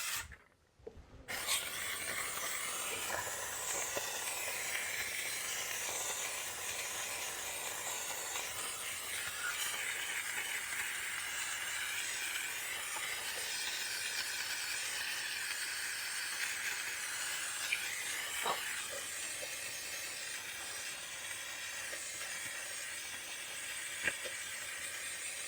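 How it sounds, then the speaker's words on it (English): A steamer blasts steam onto the pedals of a grimy car interior, a steady close hiss running unbroken for the whole stretch with faint scrubbing and small clicks underneath. "the steam's doing all the heavy hitting for us now"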